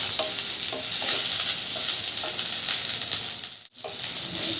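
Onion, ginger and garlic frying in a pan for an egg masala, a close, steady sizzle with soft stirring scrapes that drops out briefly near the end before resuming.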